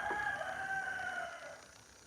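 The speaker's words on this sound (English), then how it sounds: "I'm just so tired of roosters." A ranch rooster crows one long drawn-out call, fairly close and clear over faint outdoor background.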